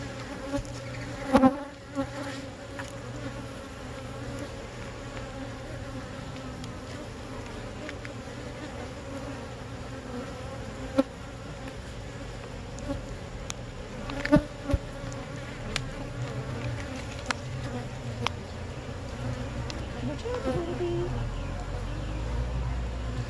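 Honey bees from an opened hive make a dense, continuous drone close by, with occasional clicks and bumps as frames are handled.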